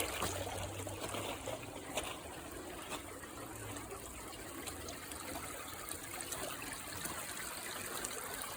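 Water trickles and splashes steadily through a gold sluice box outdoors, a continuous close hiss and gurgle without pauses.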